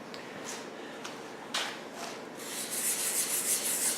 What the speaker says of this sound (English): we've done some sanding on that wing repair.